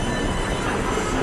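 Trains rolling through a film action scene, a dense, steady rumble of rail cars with continuous wheel and track noise, loud and unbroken throughout, with no voices.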